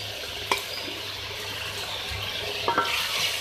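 Beef with turmeric, coriander and red chili powder stirred and frying in a pan for aloo gosht, a steady close sizzle broken by a few sharp spoon scrapes and knocks.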